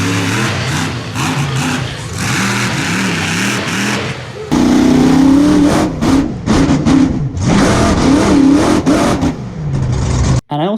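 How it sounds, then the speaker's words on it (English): A monster truck engine at a Truckfest show in Wales revs hard through a slap wheelie, loud surging throttle swells that climb and fall repeatedly, jumping to a louder sustained roar midway before cutting off abruptly at the end. "Now at Wales, I did a really cool slap wheelie."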